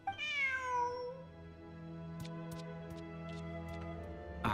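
A cat meowing in Genshin Impact, one drawn-out falling meow up front, then a few faint ticks and clicks over a low steady hum.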